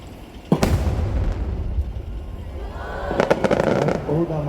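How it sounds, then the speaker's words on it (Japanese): A large silver thousand-ring chrysanthemum shell at the Nagashima Onsen fireworks display launches with a single heavy boom, followed a few seconds later by a rapid cluster of crackling pops over crowd noise and some talk. "もう一発、銀千輪菊です。"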